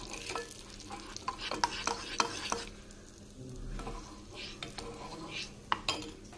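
Turmeric frying in hot ghee in a pan, stirred with a utensil: close sizzling with clinks and scrapes of metal against the pan, under a low background hum, no talk.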